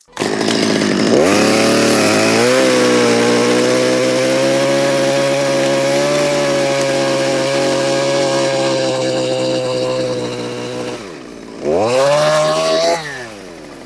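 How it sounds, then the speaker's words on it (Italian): A loud chainsaw revs and cuts steadily through a log for several seconds, drops off briefly, then revs up again close by. "quando la motosega arriva alla fine del taglio che ho fatto prima"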